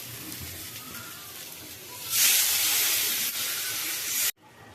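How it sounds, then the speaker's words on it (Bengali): Water poured into a hot pan of fried bitter gourd: after a low background, a sudden loud hissing burst of steam and sizzle lasts about two seconds, then cuts off abruptly. "জল দিয়ে দেবো।"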